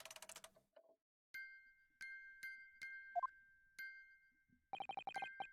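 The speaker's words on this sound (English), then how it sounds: "The defense believes that the sound emanating from this music box is not supposed to be music." A music box from Great Ace Attorney Chronicles gives out sparse, clear metallic chimes with long ringing tones, then a quick run of rapid repeated bell-like notes near the end, all quiet with no voices.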